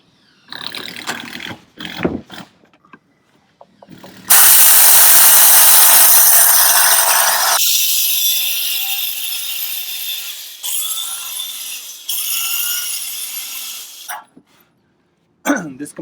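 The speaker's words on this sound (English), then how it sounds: "This composite gets kind of nasty here when you start cutting it" A power saw ripping through composite deck boards on a deck build, loud and close, with a sustained cutting whine that shifts pitch partway through, bracketed by brief handling clatter before and after.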